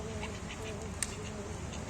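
Ducks on the pond at Nabadwip's water temple: faint, repeated quacks from a short distance over a low outdoor background, with a hint of voices nearby.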